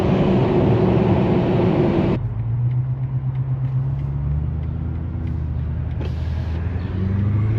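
A BMW F90 M5 Competition drones steadily from inside the cabin, with an abrupt drop in engine tone as it shifts gear early, then a low rumble that builds again, no voices.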